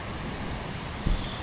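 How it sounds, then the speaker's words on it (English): Steady rain from a storm pouring outside, a dense even hiss with a brief low thump near the end, no voices. "The rain raged outside"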